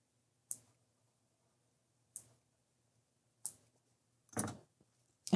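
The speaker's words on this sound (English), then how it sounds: "Just trim off my excess thread." Small scissors snip off excess thread after machine sewing a Halloween mug rug: four or five crisp, isolated clicks spaced a second or more apart, close and quiet, with no talking.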